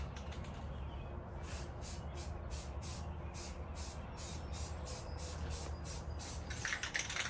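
Short bursts of spray paint hiss repeatedly as chrome paint goes onto a motorcycle expansion chamber pipe, evenly spaced pulses under quiet outdoor background with faint birds.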